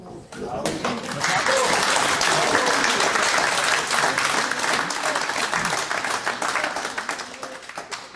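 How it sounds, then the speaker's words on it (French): A room full of people applauds together, the dense clapping rising within a second, staying loud and even for several seconds, then thinning slightly toward the end. "Applaudir à nouveau."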